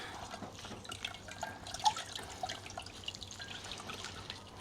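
Pineapple syrup drains through a strainer, with faint, close trickling and scattered small drips over a low background hum.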